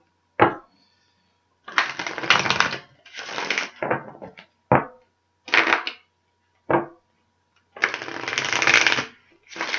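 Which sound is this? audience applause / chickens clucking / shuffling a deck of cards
shuffling a deck of cards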